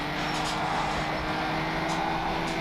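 Car engine in a racing video game, a steady loud drone holding high revs throughout with a few faint brief swells, no voices.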